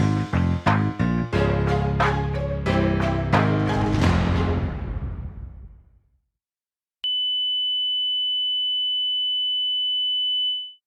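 After a fading musical passage and a few seconds of silence, a simulated permanent tinnitus tone enters: a single steady, piercing high-pitched whine holding unchanged for about four seconds before cutting off.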